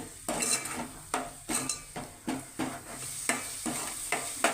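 Chili powder frying in oil in a pan as the base for a sea fish curry, with a steady sizzle broken by rhythmic scraping strokes of a spoon roughly every half second, close and moderately loud.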